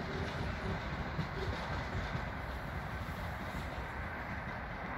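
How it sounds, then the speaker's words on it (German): A long S-Bahn commuter train, line S2 to Petershausen, rumbles steadily past close by, a continuous low roar with faint rhythmic wheel clatter and no voices. "So eine lange S-Bahn,"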